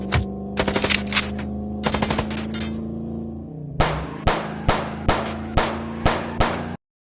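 Rapid bursts of gunfire in the video game Chicken Police, first fast rattling volleys over a steady low hum, then a slower, evenly spaced series of loud, sharp shots.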